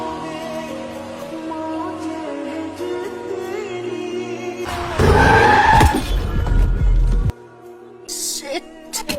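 A car skids to a sudden stop right beside a person, a loud harsh tire screech lasting a couple of seconds that stands out sharply from the quieter scene around it.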